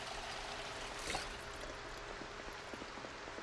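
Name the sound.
filling a water bottle in the video game Project Zomboid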